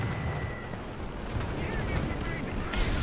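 A bomb explodes beside a tank in War Thunder ground battles, heard as a dense, rumbling blast wash of low booms and gunfire layered under continuous battle noise, with a sharper burst near the end.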